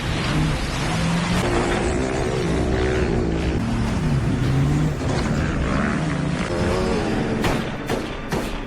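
Cars in a film chase scene, engines roaring and revving loudly in a dense, continuous mix with rising and falling tones and a few sharp bangs near the end.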